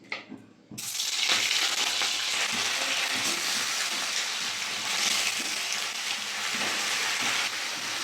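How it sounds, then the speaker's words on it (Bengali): Chicken pieces hit hot mustard oil in a kadai and fry with a loud, steady crackling sizzle that starts abruptly after a brief quiet moment and keeps going, close up with no talk. "তেলটা গরম হয়ে গেছে, চিকেনগুলো এক এক করে দিয়ে দেবো।"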